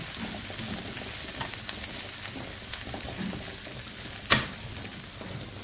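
Onion frying in a pan, a steady close sizzle with a few faint stirring clicks and one sharp tap near the end.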